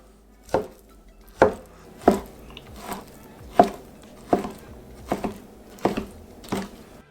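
A knife chopping chicken fillet into strips on a cutting board, about nine distinct, evenly spaced thuds in a steady rhythm, close and clear with no talking.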